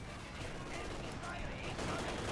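Dense, continuous machine gun fire in a Company of Heroes 2 battle, a steady rattling barrage layered with other gunfire that stays loud and busy throughout.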